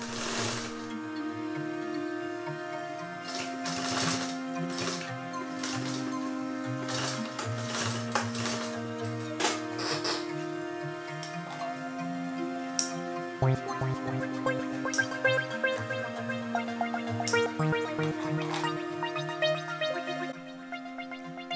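A sewing machine stitches down the fold of a backpack with webbing trapped inside, running steadily and continuously for about twenty seconds at close range with no talking.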